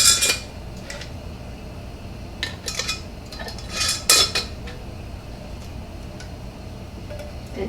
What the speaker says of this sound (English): we're going to center our lid and then add our rings to fingertip tight